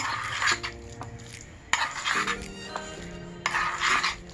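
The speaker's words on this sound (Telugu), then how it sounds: "ఈ గ్రేవీని అంతా ఇలా కలుపుకోవాలి." A spoon stirs spinach gravy filling mixed with lemon juice for palak spring rolls. Soft scraping strokes come in repeated bursts, with light clinks of metal against the pot or bowl, close and fairly quiet, with no talking.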